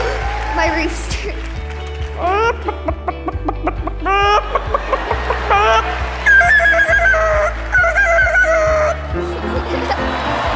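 Someone imitates a rooster at a talent show audition before judges, building from short clucks into drawn-out crowing calls, loud and close.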